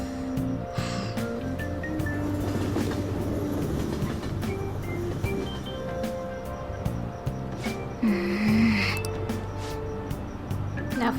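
Train carriage rolling along rails in Persona 5 Royal, a steady rumbling ride with soft clatter under game music, plus a brief squeal near the end.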